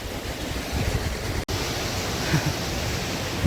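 Sai waterfall near Karnala fort, set between ranges of hills, gives a steady, dense roar of falling water that runs unbroken except for one split-second dropout midway.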